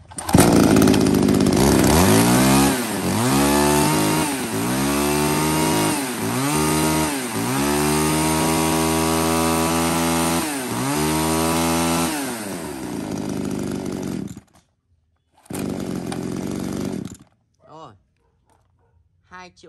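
A Makita 33cc chainsaw, one of a batch of used Japanese saws for sale, idles, then revs loudly in repeated rising bursts for about twelve seconds before cutting out and briefly restarting nearby.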